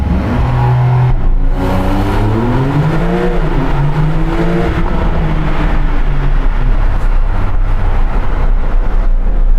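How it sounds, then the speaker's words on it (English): Steady loud roar of a Porsche 911 GT3 on the move, engine note rising and falling under heavy wind and tyre noise, continuous throughout with no voices. "Probably just a load of wind noise and tyre noise"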